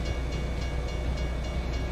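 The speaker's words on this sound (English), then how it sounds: "Okay, we made it past the train." A freight train rumbles past a truck in American Truck Simulator's Kansas countryside, making a steady dense roar of rolling wagons with faint rhythmic clatter. It is loud and continuous throughout, with no voices.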